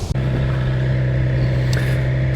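A BMW S1000XR motorcycle engine hums steadily while being ridden, a constant mid-pitched drone heard close up for a couple of seconds with no speech.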